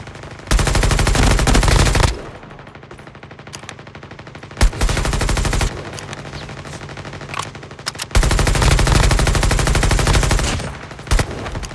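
Machine gun fire in a battle royale shooter game, loud sustained automatic bursts of several seconds each, separated by short quieter gaps, with almost no talking.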